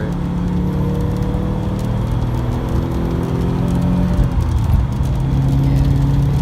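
Subaru WRX engine pulling hard under full throttle, a loud, steady rising drone with climbing harmonic tones running the whole stretch, close up from inside the car with no talking.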